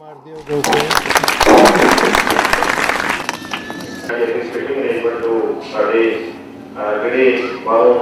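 An audience at a public library eye camp breaks into loud, dense applause for about three seconds, then someone talks over the fading crowd noise.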